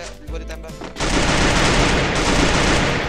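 Rapid automatic gunfire in a mobile shooter video game, a dense, loud, continuous burst of shots that cuts in abruptly after a brief quieter moment and sustains to the end.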